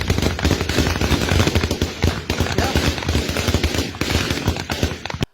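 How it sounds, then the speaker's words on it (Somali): Heavy weapons and gunfire crackle through the night in Baidoa, Somalia, as a dense, continuous stream of rapid, sharp bursts and distant booms overlaps without pause. "bal ila arag daryanka hubka iyo dhawaqa rasaasta ee gudaha Baydhabo caawa ka holcaya"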